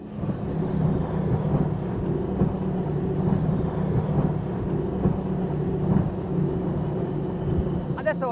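A Cigarette 50 powerboat with 2700 HP on a sea trial gives a heavy, steady engine roar mixed with wind and water rush. It stays loud and even throughout, with a faint voice beneath it.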